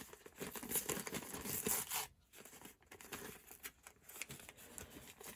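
Paper is torn by hand for a scrappy journal page, a close, crisp ripping for about two seconds, then softer crinkling and rustling of the sheet.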